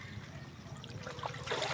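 Gentle trickle of river water from the Gabaldon River near tomato fields, a soft close burbling that swells slightly toward the end, with no one speaking.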